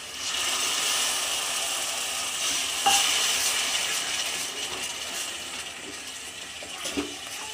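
Ground tomato is stirred into masala frying in a pan for chicken curry, a close, steady sizzle with soft scraping stirs and an occasional clink of the spoon.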